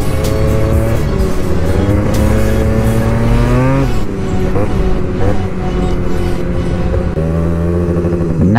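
Malossi-tuned 125cc two-stroke Yamaha scooter engine revving close by, a raspy buzzing note that climbs in pitch, drops sharply near the middle, then rises and falls again in repeated revs.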